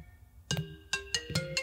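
A phone rings in the store-clerk game Late Night Shift, a series of bright electronic ring tones in a choppy pattern, moderately quiet, with no talking.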